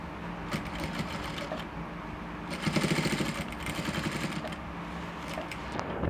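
A sewing machine stitching a cowl bubu kaftan, running in a steady close mechanical whir that grows louder and faster mid-way, with short pauses and small clicks around it and no talk.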